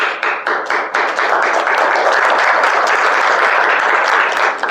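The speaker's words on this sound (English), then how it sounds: "Thank you for that wonderful applause for the introduction." Audience at a Toastmasters club meeting breaking into loud, sustained applause, a dense wash of many hands clapping close by that swells at the start and holds steady throughout.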